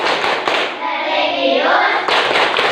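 Classroom of fifth-grade students clapping a rhythmic class chant, loud, dense clapping close by that runs continuously in a steady pattern.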